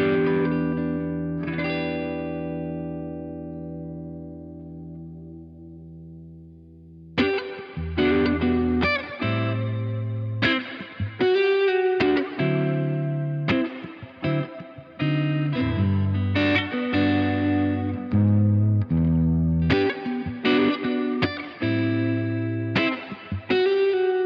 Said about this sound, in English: This is the Golden Reverb from Universal Audio.